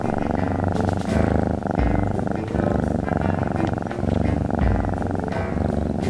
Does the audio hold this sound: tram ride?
no